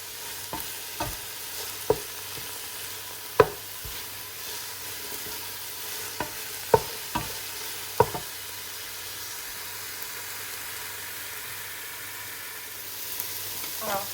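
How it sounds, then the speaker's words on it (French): Chorba with minced meat simmers in a pot with a low, steady bubbling hiss, broken by a handful of sharp knocks and clicks from utensils against the pot. "là je vais laisser mijoter un petit peu."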